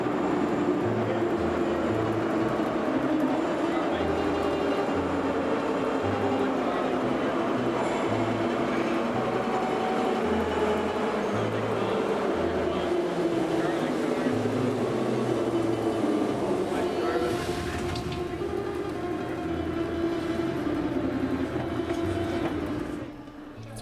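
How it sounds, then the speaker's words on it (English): A Moscow Metro train rumbles through Revolution Square station, a steady, loud rolling roar with rhythmic clicking of the wheels that lasts nearly the whole stretch and drops away sharply at the very end. "we took a tour of some of the ornate stations in the Moscow Metro"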